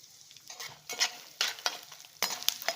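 Spices splutter in hot oil as asafoetida goes into the tempering, with bursts of crackling and sizzle and some stirring scrapes, close and moderately loud with no talking.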